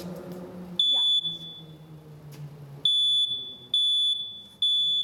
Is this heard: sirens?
no